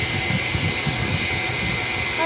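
A pet blower dryer roars steadily while drying a dog, a loud, close, continuous rush of air with a person talking underneath.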